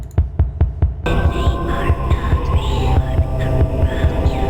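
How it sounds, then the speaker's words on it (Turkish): Heartbeat effect from the Sprunki music-making video game: four sharp, evenly spaced low thumps, then a loud droning hum with throbbing beats continuing under layered musical tones. "Kalp sesi ver, kalp sesi."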